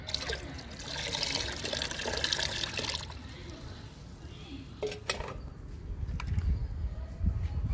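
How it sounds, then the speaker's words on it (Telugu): Cucumber peel liquid fertilizer being poured for flowering plants, a steady splashing stream with clinks of a container, then a low gurgle as the pouring tapers off. "ఇది దోస తొక్కల లిక్విడ్ అండి, పోస్తున్నాను."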